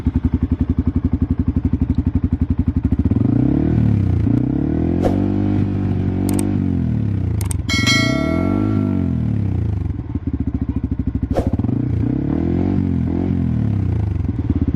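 A motorcycle fitted with a Qala Performance racing exhaust revs repeatedly, its engine note sweeping up and down in loud, close rises and falls, with brief clattering ticks in between.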